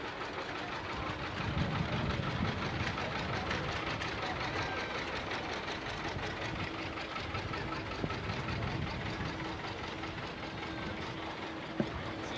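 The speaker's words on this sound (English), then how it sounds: "this last tractor coming by here also is a piece of tractor pull equipment" A tractor-pull tractor rolls by in a town bicentennial parade, its engine a steady, rough, knocking drone at moderate distance, with a faint clank near the end.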